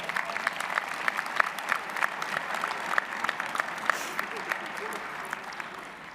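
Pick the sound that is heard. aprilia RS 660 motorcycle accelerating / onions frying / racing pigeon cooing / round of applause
round of applause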